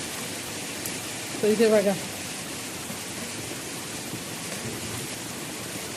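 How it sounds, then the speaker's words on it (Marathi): Heavy monsoon rain pours steadily outdoors as a dense, even hiss throughout, and someone speaks briefly over it. "पावसाचा जोरजोरात येत आहे"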